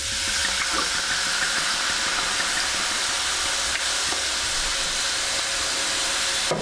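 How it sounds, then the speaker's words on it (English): Red wine poured into a hot pan of floured beef sizzles and hisses steadily and loudly, a dense continuous crackle with no speech over it. "next thing to do is add our red wine"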